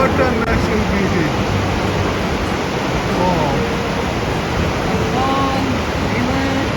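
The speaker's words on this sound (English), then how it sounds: "On our way towards the Takakkaw Falls." Rushing water near Takakkaw Falls in a British Columbia national park fills the scene as a constant, loud roar, with a few brief voices over it.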